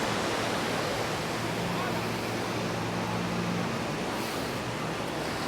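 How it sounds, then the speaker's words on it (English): Ocean waves wash against the shore beside the seaside promenade at Playa del Inglés, Gran Canaria, making a steady roar that fills the whole clip without a break. "I wonder if the waves coming through the audio"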